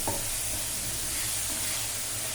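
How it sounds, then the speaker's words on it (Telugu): Onions fry in a pan with a continuous, even sizzle and hiss close by, steady throughout with no voices. "ఉల్లిపాయలు బాగా వేగాలండి"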